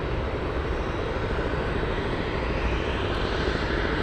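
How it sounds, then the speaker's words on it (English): A Boeing 777 starts its engines at Anchorage airport before a flight to Osaka, making a steady, loud, broadband jet roar that holds unchanged throughout without any voices. "This is a 777 starting its engines"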